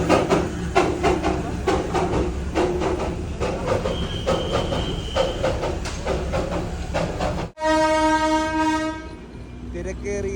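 The Darjeeling Himalayan toy train rolls through busy Kurseong town, its wheels clattering and squealing nearby, then sounds a long, loud horn blast near the end, with a brief cut just before it.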